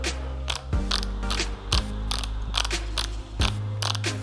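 Torque wrench ratcheting as it tightens the rear brake caliper bolts on a 2017 Kawasaki Ninja 1000, a close, loud run of repeated mechanical clicks in quick bursts with a few short pauses.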